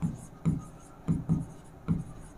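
Chalk or marker strokes on a classroom board during a chemistry lecture, a few short scraping taps in an uneven rhythm, close and fairly quiet with no talking.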